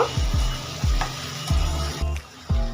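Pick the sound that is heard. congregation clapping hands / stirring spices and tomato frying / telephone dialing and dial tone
stirring spices and tomato frying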